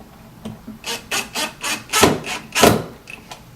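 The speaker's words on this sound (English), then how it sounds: "I'm just going to screw them right in place." Screws driven into a wooden drawer box during JSI base cabinet assembly, heard as a close, loud run of about eight short grinding bursts in a steady rhythm, with no talking.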